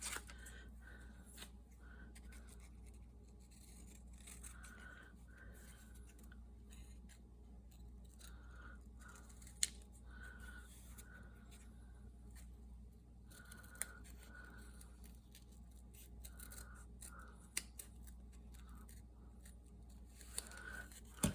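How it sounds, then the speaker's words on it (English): Scissors snipping through mulberry paper, soft repeated close cuts in an irregular rhythm over a quiet room hum. "Let me just cut this"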